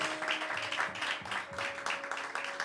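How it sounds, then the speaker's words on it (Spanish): Church congregation applauding steadily at a worship service, dense continuous clapping from many hands with a faint sustained organ or keyboard tone underneath. "Vamos a darle un fuerte aplauso al Espíritu Santo."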